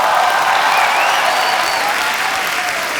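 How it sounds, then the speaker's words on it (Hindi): Studio audience on a live comedy show claps loudly to welcome a guest, a dense, steady wall of applause filling the whole moment with no pause. "तो आप सबकी जोरदार तालियों के बीच बुलाना चाहूंगा हमारे मुन्ना माइकल"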